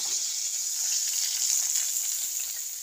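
Food fries in a small amount of oil, giving an even, close sizzling hiss that holds steady throughout with faint crackles and no voices.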